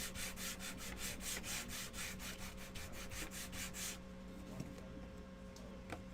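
Wooden craft kit pieces for a heart-eared bunny are sanded by hand in a quick, even back-and-forth rhythm of close, scratchy strokes that runs for about four seconds and then stops, leaving a quiet room.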